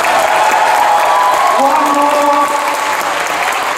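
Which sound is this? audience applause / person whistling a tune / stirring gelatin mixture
audience applause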